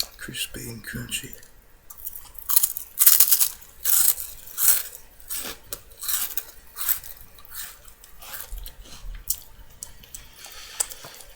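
A crispy, crunchy healthy snack bitten and chewed close to the mic, with a run of sharp crunches, quieter chewing and small wet mouth sounds, and faint whispering in places.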